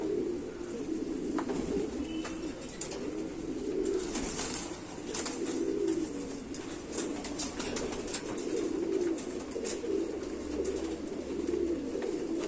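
A male and female pair of rare migratory pigeons, kept as a breeding pair for flying, coo close by in repeated rolling phrases at a steady rhythm, with no voices.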